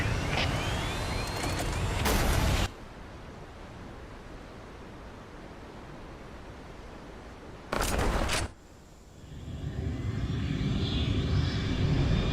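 A dropship in Halo comes in too fast and crashes, a roaring engine rush that breaks into sharp impact bursts, then gives way to a long hiss and a rumbling aftermath.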